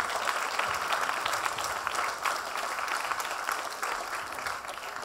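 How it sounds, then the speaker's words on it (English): Steady applause from an audience at an award night and charity launch, a dense continuous patter of many hands clapping that holds evenly throughout. "I think they deserve a huge, huge applause"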